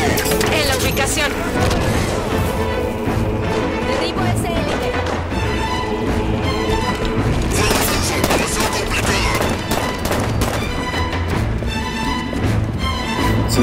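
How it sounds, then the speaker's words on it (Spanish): Gunfire in the Halo 5 Guardians campaign mission "Alianza": rapid shots and cracks crowd a dense, loud battle mix, with game voices talking over the action throughout. "Sentí un disparo por atrás."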